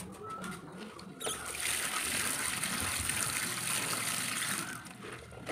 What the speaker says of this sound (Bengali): ঝুড়িতে দিয়ে দিলাম সবগুলো পটলের খোসা আলু সম্পূর্ণ সবগুলো আমি এখানে দিয়ে এখানে জল দিয়ে ধুয়ে নেব